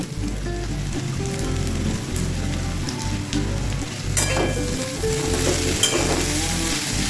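Vegetables such as cauliflower and pointed gourd fry in a pan with a boiled potato, giving a steady, close sizzle broken by occasional stirring scrapes, with no talking.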